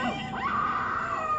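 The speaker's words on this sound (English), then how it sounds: "They sound like children crying. That's very creepy." Creatures in the Silent Hill movie wailing like crying children, a single sustained high, rising and wavering moan with no talk over it.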